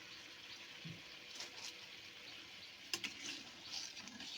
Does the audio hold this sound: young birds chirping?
no